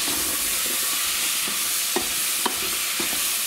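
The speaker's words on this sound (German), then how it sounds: "Gut umrühren." A pork pot roast, seasoned with pepper and salt, is stirred in a pot with a steady sizzle and frying hiss, while a few sharp scrapes and knocks of the utensil come through.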